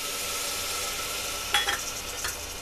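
Vegetables for veg tahari sizzling in a hot pan, a steady frying hiss broken near the end by a few sharp scrapes and clinks as a spoon stirs them, no talking.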